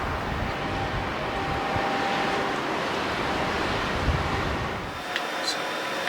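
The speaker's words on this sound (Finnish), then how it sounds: "Täällä on myrskyä, 28 metriä, englantilaiset lupaa 11 Boforia" Storm wind of about 28 metres per second, blowing from the west, roars along a coast with surf, as a steady loud broadband rush lasting the whole stretch with slight gusting swells.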